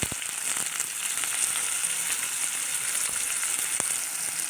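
Onions and spices sauté in oil in a hot pan, a steady bright sizzle running throughout with a few sharper crackles and pops, close and alone with no talking.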